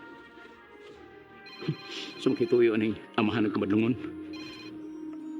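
A cellphone rings as a sound effect in a Cebuano radio drama, its electronic ringtone tones repeating steadily beneath someone speaking in the foreground.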